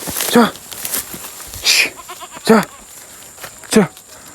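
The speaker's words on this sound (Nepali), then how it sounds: "हाम्रो बाख्रा पनि आएका छन्" Several goats bleat loudly and close by, calls spaced a second or so apart, with quieter background noise in between.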